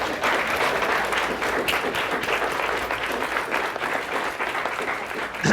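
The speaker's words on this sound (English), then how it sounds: "please stand up and give them a round of applause" An audience at a real estate agents' seminar gives a round of applause: dense, continuous clapping from a crowd that holds steady for several seconds.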